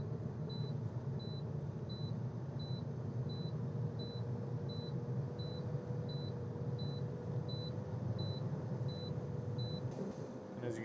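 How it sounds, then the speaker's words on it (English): A truck's low air pressure warning alarm sounds as repeated evenly spaced beeps over a constant idling engine rumble, cutting out near the end. "our warning light and our audible alarm did go off"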